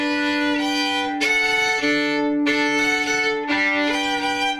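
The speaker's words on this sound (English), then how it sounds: "I can also put the bow on more than one string at a time." Sustained bowed string chords, several notes sounding together, with three long strokes changing to new chords, rich and resonant, no voices.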